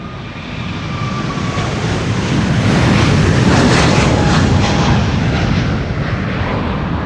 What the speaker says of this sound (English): time for Cathay Pacific Flight 270 to Hong Kong, the A350-1000